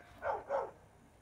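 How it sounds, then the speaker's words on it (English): A dog gives two short, muffled barks in quick succession, faint and somewhat distant against a quiet outdoor background, with no talking during them. "There was a dog."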